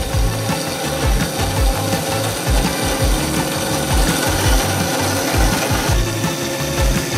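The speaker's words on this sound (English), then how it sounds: "So it's gonna take 6 passes to cut out this thing that is only 1/8 inch thick." A cheap CNC router cuts thin 1/8 inch material with a continuous, loud, rasping, chattery grind and a rhythmic pulsing of the bit against the workpiece. It is close and steady throughout, with no talking.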